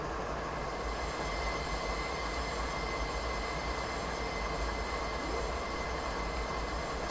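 A freight train in a simulator game rolls through a Canadian mountain pass, its wheels grinding and squealing in a steady, dense rumble that holds constant throughout, with no talking.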